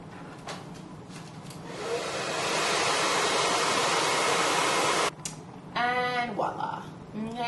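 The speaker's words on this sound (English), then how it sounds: "blow on it with some cool air from a blow dryer" A hair dryer blows with a steady rushing whoosh for a few seconds, then cuts off as a person starts talking nearby.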